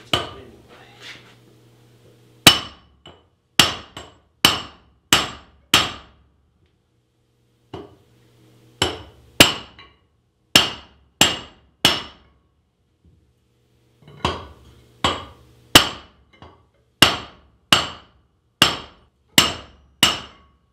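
Sharp metallic hammer blows ring out on a loose Chevy brake rotor stuck on its hub, falling in quick runs of four to six strikes separated by short pauses, close and loud, with faint background clatter and no speech.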